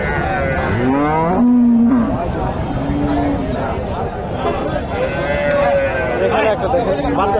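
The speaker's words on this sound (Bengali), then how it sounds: "এই যে গাভী" Friesian dairy cows at a cattle market in Bogura, several loud, drawn-out moos close by over a busy crowd murmur and people talking.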